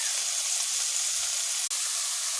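A ground spice paste of onion, garlic, ginger, green chili and cumin sizzles in a pan. It gives a steady, close, broadband hiss that barely changes, with one brief dropout.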